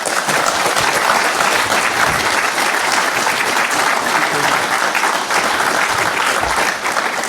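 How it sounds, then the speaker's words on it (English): Sustained, loud applause from a conference audience after a keynote talk, a thick, steady roar of clapping with faint murmurs underneath. "I think that's time to clap."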